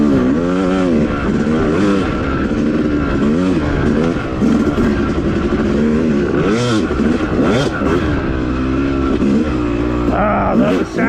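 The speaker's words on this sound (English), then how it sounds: "I love the sound of this bike" A Yamaha YZ250 two-stroke dirt bike ridden on a wooded OHV trail revs loudly and continuously close by, its engine pitch rising and falling as the throttle opens and closes.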